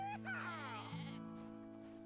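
Goats and sheep bleat in Cowboy Life Simulator, a wavering harmonic cry rising over steady background game music, close and clear across about two seconds.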